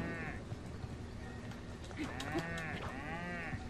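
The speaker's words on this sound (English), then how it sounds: "The cow is moaning" A cow moos twice in the Breath of the Wild video game, a drawn-out lowing call near and clear over quiet ambient game sound.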